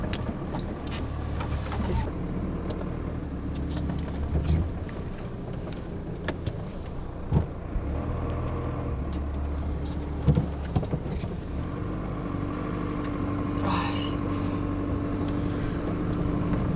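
Car rolling slowly along a muddy dirt road on a US road trip, a low steady engine rumble with occasional bumps and knocks from the rough surface, while people talk inside.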